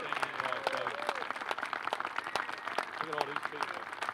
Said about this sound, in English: So let's give one round of applause to Coach Motta.